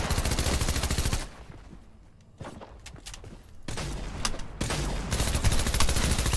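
Pump shotgun blasts in Fortnite ring out in loud bursts at the start and end, with quieter in-game noise and scattered shots in between.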